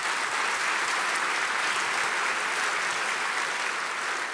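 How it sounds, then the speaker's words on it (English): A full round of applause from guests at the Openlands annual luncheon, honoring the staff. The thick, even wash of many clapping hands stays loud and steady throughout, with no voices over it. "if we could have another round of applause for them"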